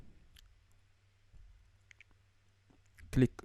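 Computer mouse clicks while importing products into an online store: a few faint, sparse clicks, then one sharper, louder click near the end over a low hum.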